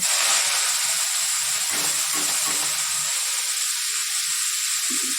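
Washed mustard flowers hitting hot oil for frying, giving a loud, steady hiss and sizzle that fills the whole stretch, with faint clatter in the lower range.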